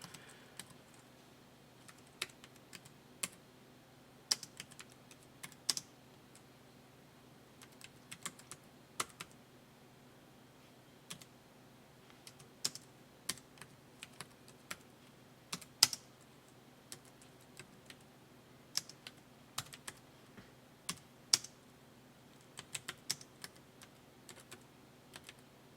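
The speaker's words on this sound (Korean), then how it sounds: "지금 제가 일부 천천히 치고 있거든요" Keys clack slowly and unevenly on a computer keyboard in a quiet room, with scattered single taps and short bursts of typing that carry on steadily and unaccompanied by any speech.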